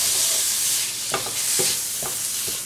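Tomato and curry leaves fry in a pan for Kerala chicken curry, a steady close hiss of sizzling broken by several scraping stirs of a spoon, with no talking.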